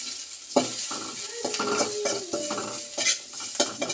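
Oil sizzling and crackling in a hot, smoking pan while cooking vegetables with sardines and ginger, with steady frying hiss and intermittent stirring clatter of a utensil against the pan throughout, fairly close.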